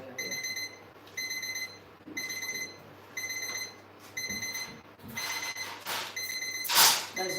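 A kitchen timer alarm goes off after cookies finish baking, repeating bursts of high electronic beeping in a steady rhythm, fairly loud over faint background clatter.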